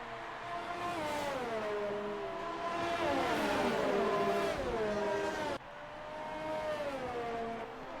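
Race cars roar through a wet race in an F1 racing video game, engines whining and shifting pitch as several cars pass close by, the sound steady and loud with a brief drop near the end.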